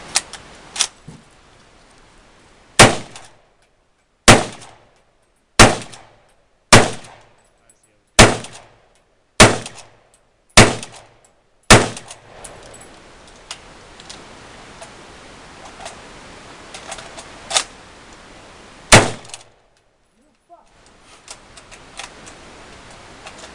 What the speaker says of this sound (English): Got a 1942 Lee Enfield number 4 Mark 1, 1941 bayonet. Got 10 rounds of reloaded 303.